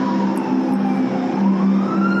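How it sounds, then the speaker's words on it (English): A loud, wailing siren sweeps slowly up and down in pitch over a low engine rumble, close by and continuous. "Is that a siren?"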